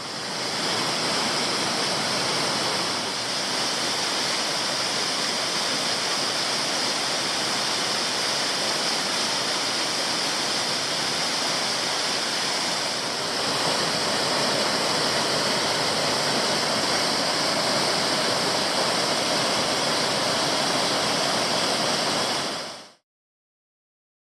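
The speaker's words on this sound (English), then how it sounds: "And another smaller drop just here. A really great spot. Even a little side cascade coming in over there." Small waterfall and a side cascade on Toolona Creek in Queensland bushland, a continuous loud rushing of falling water, close and steady for the whole stretch before cutting off abruptly, with no voices.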